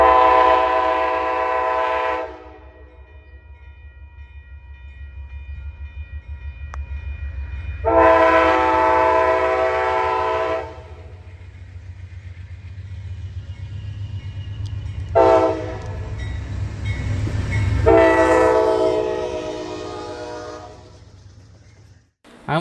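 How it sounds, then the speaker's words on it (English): An Amtrak Downeaster train led by P42DC locomotive number 97 accelerating, with three long, loud multi-tone horn blasts over a low, steadily building diesel engine rumble. "As they accelerate with a signal upgrade, P42 DC number 97 notches up and produces quite a bit of black smoke."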